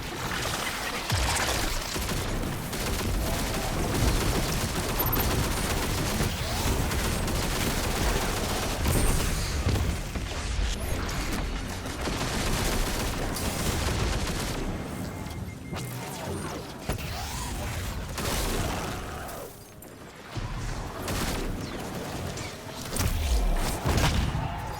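Machine gun fire in the Destiny 2 Grandmaster Nightfall mission Disgraced, dense continuous bursts with explosions and crashes layered through a loud game battle, nearly unbroken for the whole stretch.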